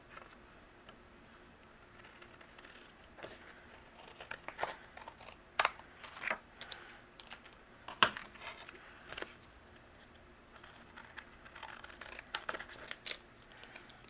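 Scissors trim overhanging cardstock panels from a birthday shaker card in close, crisp snips and clicks, separated by quiet pauses and growing busier midway, with no voices.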